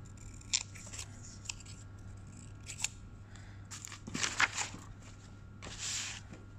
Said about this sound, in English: I'm just going to carefully just cut it out away from the rest of the paper